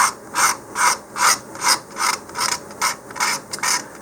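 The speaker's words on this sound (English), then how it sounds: "if you're going to use a knife, you don't want to cut it, you're going to scrape it" A hobby knife scrapes along a part for a Rocketarium Roland SAM model rocket in about nine steady, rhythmic rasping strokes, close and clear with no talking.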